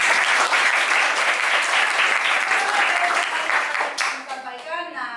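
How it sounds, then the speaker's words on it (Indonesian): Steady clapping from a classroom of students for a teacher's performance lesson, dense and fairly close for about four seconds, then fading out as a voice begins speaking. "berikan tepuk tangan untuk teman"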